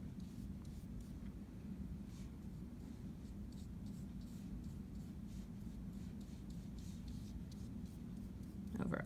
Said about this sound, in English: I'm going to go back through and add a little bit more paint.